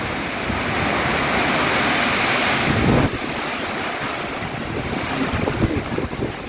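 Storm wind roars through trees at a rural garden home, a loud continuous rushing that swells and dips briefly midway before carrying on strongly.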